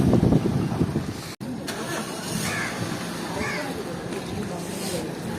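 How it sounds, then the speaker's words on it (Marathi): A car engine starts and the vehicle pulls away on a road trip near Uttan, Mumbai, a steady mid-pitched engine hum running under continuous chatter from nearby people. "एक गाडी आपली निघाली आहे"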